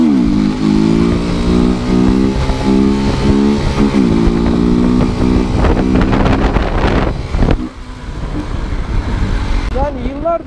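An X-Treme Maxx motorcycle engine runs at a steady idle-like drone close to the mic, with wind buffeting across it and a voice talking over the engine for much of the time.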